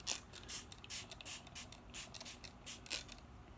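A pump bottle of cosmetic setting spray mists in a series of about eight short, soft hissing bursts at an uneven rhythm, close and fairly quiet with no talk.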